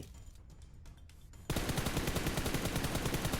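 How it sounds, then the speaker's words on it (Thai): Gunfire in the PUBG Mobile battle royale game, a quiet stretch suddenly broken by a loud sustained burst of rapid automatic shots that keeps going to the end. "มีเสียงปืนตรงบ้านเจอละ ไม่รู้ยิงใคร"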